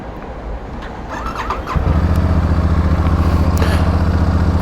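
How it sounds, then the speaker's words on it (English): A Royal Enfield Super Meteor 650 cruiser motorcycle starts up and settles into a steady, throbbing engine beat, close and loud, after some initial clatter and squeal. "here we are on the Royal Enfield Super Meteor 650"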